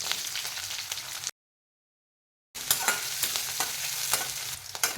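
Onion fries and is stirred in hot oil tempered with cumin and curry leaves for a village-style zunka, close crackling sizzle with scraping spatula strokes, cut by a short stretch of complete silence.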